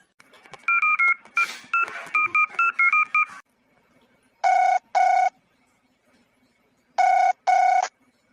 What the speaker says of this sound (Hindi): रुको हम बड़कनू लगा फोनवा लगाई बाटी, रुको।